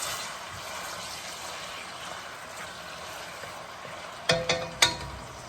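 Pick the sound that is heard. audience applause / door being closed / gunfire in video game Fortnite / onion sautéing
onion sautéing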